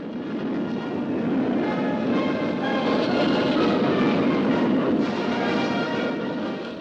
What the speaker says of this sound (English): overhead flew 10 long-range Tu-95s, capable of delivering a nuclear bomb all the way to America.